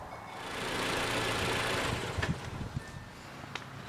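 A 2009–2012 Toyota RAV4 engine runs steadily just after an oil change, a low continuous hum with a few faint clicks and knocks near the end, no talking.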